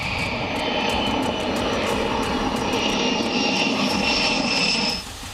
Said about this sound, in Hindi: ब्रिटेन के सफोक एयरबेस पर भी 12A-10C थंडरबोल्ट विमानों ने लैंड किया है